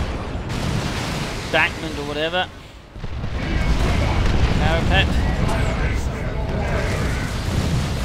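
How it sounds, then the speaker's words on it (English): Cannon bombardment in the Dawn of War 2 real-time strategy game rumbles as repeated booming impacts over dense battle noise, heard under a caster's commentary. "And there go the D cannon bombarding from a nearby"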